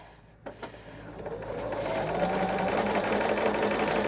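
A sewing machine stitches the seam of a baby quilt, starting after a couple of brief clicks and settling into a steady, close, continuous whir with no talking.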